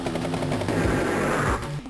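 A battlecopter strafes tanks in Advance Wars 2, a dense rattling burst of chiptune machine-gun fire over game music, running steadily for about a second and a half before cutting off.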